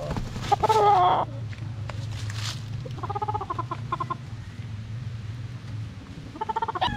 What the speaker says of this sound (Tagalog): ito napakagandang manok nito